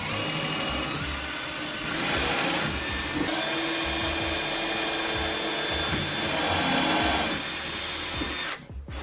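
A power drill boring a hole in wood with a countersink bit that also cuts the recess for a screw head, a steady close high whine running throughout before it spins down at the end.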